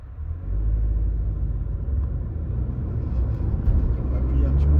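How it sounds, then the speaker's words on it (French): An Audi S3 8Y accelerates on the road, a deep steady engine rumble swelling under the cabin while someone talks over it. "Alors, comme vous le voyez, ça accélère tout de suite, on a une super bonne reprise."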